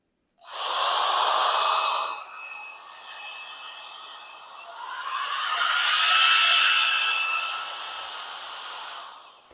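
An electric blower whirs up to a loud, steady whine with a high-pitched tone, its pitch and airflow shifting partway through before it winds down.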